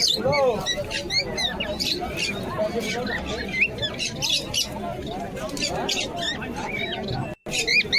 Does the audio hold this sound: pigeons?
yes